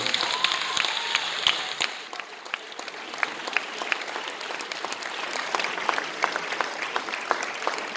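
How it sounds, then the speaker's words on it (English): An audience at a school drama awards ceremony gives a steady round of applause, an even patter of many hands at moderate distance that holds for the whole stretch. "giving Mr. Jaimaha a big round of applause"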